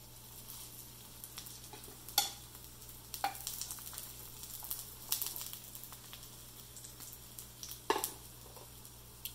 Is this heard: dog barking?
no